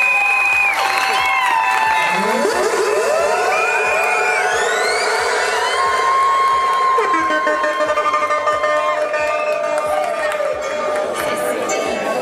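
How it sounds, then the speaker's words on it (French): Guests at a Gabonese customary wedding clap and cheer steadily throughout, a dense, loud crowd sound layered with high voices and calls. "Sous vos applaudissements."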